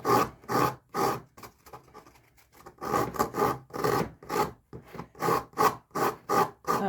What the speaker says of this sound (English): Just sand this part down because you don't want it to stay jagged